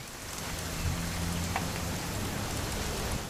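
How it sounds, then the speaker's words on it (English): Steady, even rainfall in the video game What Remains of Edith Finch, a continuous close hiss of drops on surfaces with a faint low rumble underneath and no voices. "It's gonna rain the whole weekend,"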